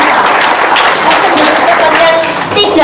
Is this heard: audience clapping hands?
yes